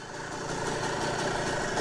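Steady idle of a 1970 Harley-Davidson M65S motorcycle engine kickstarted from cold, a continuous even putter that builds slightly and stays close and unbroken, with no talking.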